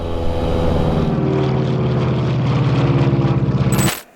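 A 1930s motorcycle engine runs while being ridden, a loud, steady droning putter with a fast pulsing rhythm that sounds much like an old propeller plane, cutting off abruptly at the end.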